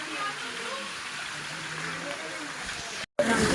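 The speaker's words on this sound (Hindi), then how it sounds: "ये देखो भाई, पानी की स्पीड देखो और पानी की आवाज़" A stream of water flows at a temple, a steady hissing rush heard close and continuous, briefly cut off near the end before resuming.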